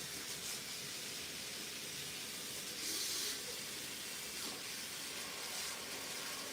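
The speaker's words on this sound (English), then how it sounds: "I'm rinsing off my spatula so we can get to the white" Tap water runs steadily over a spatula that has been used for icing, a constant hissing spray that is fairly faint and even throughout, with no talking.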